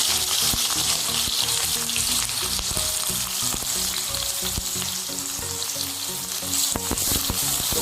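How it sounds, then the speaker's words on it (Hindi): Chopped onions fry in refined oil in a kadai, a loud, continuous sizzle with scattered pops and scraping stirs, close and steady throughout with no voices. "कढ़ाई में रिफाइंड तेल डाल दिया हूँ और यहाँ पर कटा हुआ प्याज है 3 और मैं इसको डाल के प्याज को भूनने वाला हूँ"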